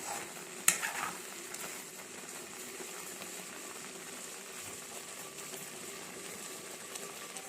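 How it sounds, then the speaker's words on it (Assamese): Ghee simmering on a low flame, stirred now and then, gives a faint steady sizzle and soft bubbling, with one sharper scrape of the spoon near the start. "এতিয়া প্ৰায় মোৰ ঘিখিনি 15 মিনিটমান হৈ গ'ল ল' ফ্লেমত"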